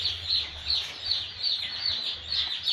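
Day-old broiler chicks in a poultry house, a dense flock of high-pitched peeping chirps pulsing in quick repeated bursts, close and continuous with no talk.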